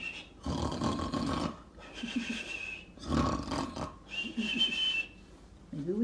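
A person imitates snoring with voice, giving three long rasping inhaled snores with whistling exhales between them, loud and close, alone without other talk.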